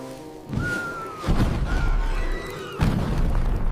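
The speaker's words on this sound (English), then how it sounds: "a massive explosion sends the trio flying" A rescue flare roasted over a campfire explodes in a 3D animated camping scene, giving loud, deep booming blasts at three points, mixed with whistling tones and crackling bursts.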